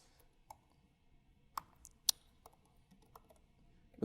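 Typing on a computer keyboard during a software demonstration, faint scattered key clicks with a few sharper taps in an uneven rhythm, heard alone in a quiet room.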